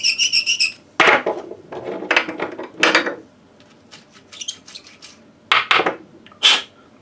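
Trimming of 300 Blackout brass cartridge cases makes loud, close bursts of metallic grinding and whirring, each lasting under a second, separated by short pauses and light clinks of brass cases being handled.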